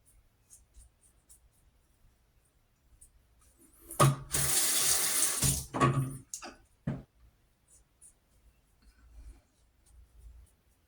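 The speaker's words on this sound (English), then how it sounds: "For now, I'll just keep re-wetting the block." Bathroom tap water running into a sink to re-wet an alum block during a shave, a loud gush of about two seconds followed by short splashes, then quiet.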